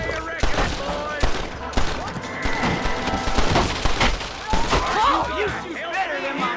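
Rapid gunfire from a Red Dead Redemption shootout, with dense overlapping shots and crashes close and loud throughout, mixed with shouting voices and game music.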